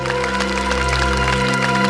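Audience clapping greets a favorite star on a TV show set, a dense burst of applause layered over steady background music, with no voices speaking.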